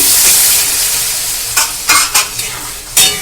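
Sour yogurt goes into frying spice masala for chana masala, a hot sizzle under a spoon scraping and stirring, with a few sharp clacks of the utensil against the pan near the end.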